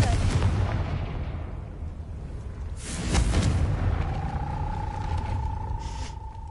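Confringo blasting spell explosion in a Harry Potter video game, a loud deep boom about midway that swells and rumbles, followed by a sustained ringing tone and lingering low background rumble.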